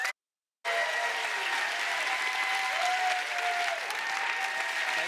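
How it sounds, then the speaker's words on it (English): Large audience at a world forum breaks into sustained, loud applause after a brief silence, a dense wash of clapping that continues without letting up. "let's give him a very loud, very rowdy, warm round of applause."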